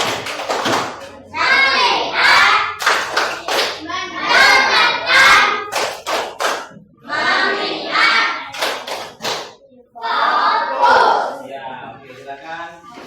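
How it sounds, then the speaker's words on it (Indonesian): A school class performs the 'tepuk konsentrasi' rhythmic clapping routine, with bursts of patterned clapping alternating with children chanting together, loud and close in a classroom. "tepuk konsentrasi"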